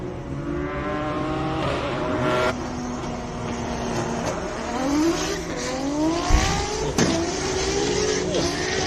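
A race car at the Simola Hillclimb, with a loud continuous engine roar rising and falling through gear changes, close and sustained, under faint crowd noise.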